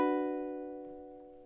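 Single ukulele strum from a song, one bright chord ringing out and slowly fading, alone and close.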